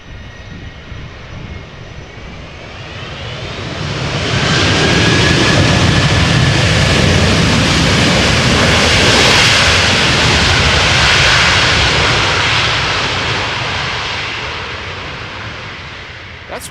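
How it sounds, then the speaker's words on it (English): A 17-year-old passenger jet airliner arriving from Detroit at Amsterdam Schiphol Airport swells from a distant whine into a loud, close engine roar over about ten seconds, then slowly fades, with no talk. "Flight 136 arriving from Detroit. 6 hours and 48 minutes of flight time."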